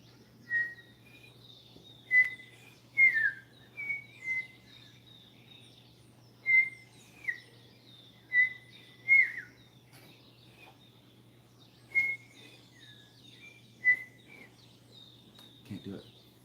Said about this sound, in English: that one is most likely the common thrush or great thrush